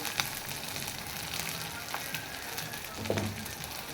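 Spices and bay leaf frying for a chicken masala produce a soft, steady sizzle close by, with a few light clinks of stirring scattered through it.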